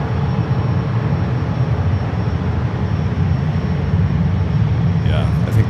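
An ANA airliner rolling for takeoff at San Francisco airport, a broad, steady jet roar holding loud and constant throughout, with a faint higher whine near the end.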